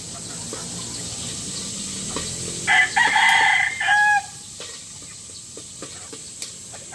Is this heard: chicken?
yes